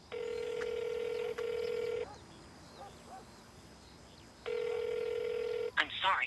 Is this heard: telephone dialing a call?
yes